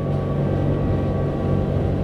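Twin Yanmar 8LV370 V8 diesels on a Seaward 39, turning 2800 RPM through V-drives, hold a steady, smooth, loud low drone throughout, with no talking.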